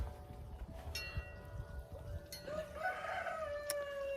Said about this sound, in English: I'm sorry if you can hear the chickens over there. They're making plenty of noise for 3 chickens.